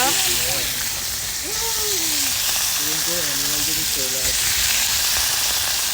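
Dried chapa shutki fish fries in hot oil at an outdoor backyard picnic, giving a loud, steady hissing sizzle while people talk over it.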